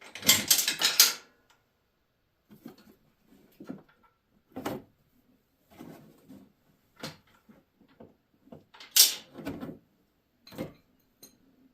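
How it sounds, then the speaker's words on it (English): A ratchet wrench loosens an 18 mm top bolt during a leveling kit install on a 2023 Ford F-150, giving sparse clicking ratchet bursts and metallic clanks at close range with pauses between strokes. "these are an 18 millimeter. I use my trusty ratchet wrench."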